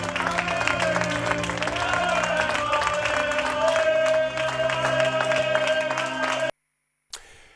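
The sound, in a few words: fans chanting and applauding for Alberto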